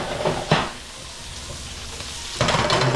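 Shrimp browning in a pan with garlic butter for a Hawaiian garlic shrimp truck dish: a steady, close hiss of frying that swells louder near the end, with a short scrape or clatter early on and no talking.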